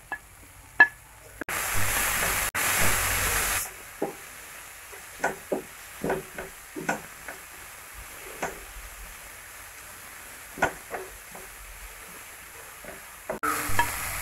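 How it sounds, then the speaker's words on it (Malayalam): Cabbage, chilli and other vegetables stir-fried in a pan for semiya uppumavu: a soft background sizzle broken by a string of distinct spoon scrapes and taps, with two louder bursts of hissing near the start and at the end. No one speaks. "നന്നായി വഴറ്റിയെടുക്കുക."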